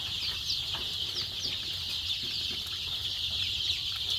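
Fayoumi and native chickens clucking on a small farm after Ranikhet vaccination, a steady chorus of several birds clucking nearby with constant high chatter and no voices.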